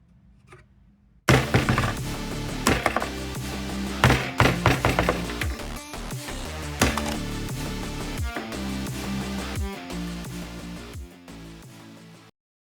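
Lil Smashy, a pressure-testing rig, smashing waterproofed 3D printed samples: a loud series of heavy thunks and cracking impacts landing in irregular rhythm, close and without voices.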